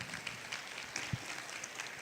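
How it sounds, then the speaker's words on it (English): Conference audience at a Hispanic women's organization event in Arkansas applauding, a faint, distant patter of clapping throughout with no talking. "let's give her a round of applause."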